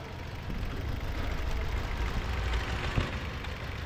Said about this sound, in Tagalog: may tagaktak sa loob ng makina eh